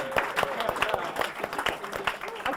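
An audience claps at a talk on neuroscience and peak performance, a short burst of scattered, fairly close hand claps from a crowd with some talk mixed in.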